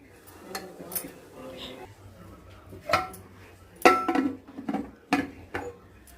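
A metal lid set down on a pot of vegetable curry with broad beans and soaked toor dal, giving a few sharp clanks and clinks among scattered kitchen knocks, close and moderately loud, with no talking.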